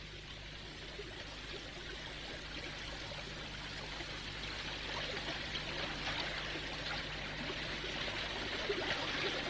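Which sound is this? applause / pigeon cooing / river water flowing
river water flowing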